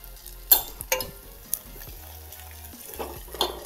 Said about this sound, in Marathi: ही मस्त फोडणी बसली बघा.